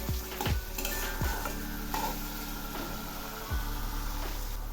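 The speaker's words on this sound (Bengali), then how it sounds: "আবার একটু নেড়ে দিচ্ছি।" Kashmiri chili powder and other ground spices fry in a pan for a cauliflower dish while a utensil scrapes through them. A hum sits underneath, broken by several sharp knocks against the pan, and no one speaks.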